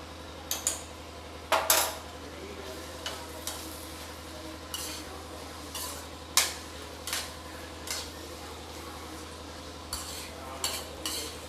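A spoon scrapes and clinks against a pan while paneer bhurji is stirred, giving irregular sharp metallic taps and scrapes spaced a second or two apart over a low steady kitchen hum, close and fairly quiet.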